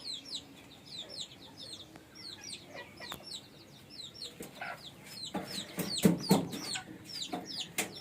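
Native chickens on a small netted farm cluck in repeated short bursts, several birds calling near and far, with rustling and scratching growing louder toward the end.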